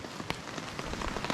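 Freezing rain patters steadily onto a camping tarp strung over a hammock in the Cranberry Wilderness, with sharper individual drops tapping close by against a constant wet hiss.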